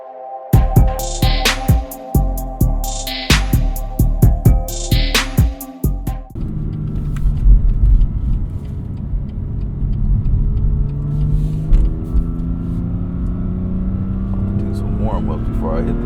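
A BMW M2 rumbles loud and close with a steady low engine drone on the road, after an opening stretch of rhythmic, repeating tonal beeps.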